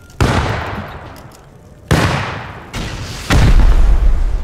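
Grenade explosions in a video game, three loud close booms each breaking out suddenly and trailing into a rumbling decay, the last one sustained and heaviest.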